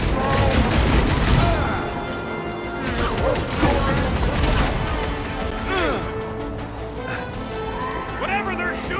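Dense gunfire, crashes and booms fill a combat scene in the video game Guardians of the Galaxy, loud and continuous, with character voices shouting throughout.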